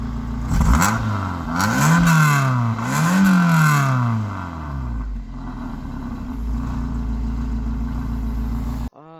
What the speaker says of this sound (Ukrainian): Зараз ми послухаємо вихлоп цього прекрасного автомобіля